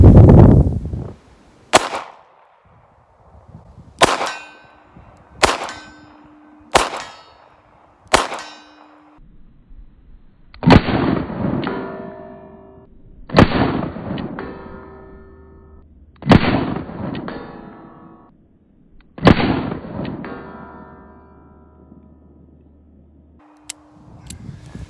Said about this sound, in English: I'll do the 38 plus P, and then I'll put in the 357